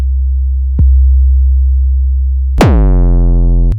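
A Shakmat Battering Ram Eurorack module recalling sequencer presets, giving a steady pure sine tone interrupted by a brief click and then a sharp pitched percussive strike that decays with rich overtones, loud and alone.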